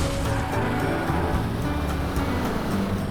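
Cars in the racing video game L.A. Rush produce a steady engine drone and road rumble, loud and sustained without pause, with no talking over it.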